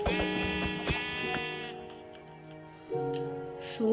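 Minecraft sheep give wavering, nasal bleats, one drawn out near the start and two shorter ones toward the end, over soft ticking game sounds.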